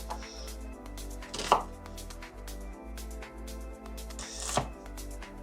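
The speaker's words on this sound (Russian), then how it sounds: "И мы порежем лук тоже меленько сейчас." A knife chops onion finely on a cutting board for a dumpling dish, giving steady close rhythmic knocks with two sharper, louder strikes, and no talking.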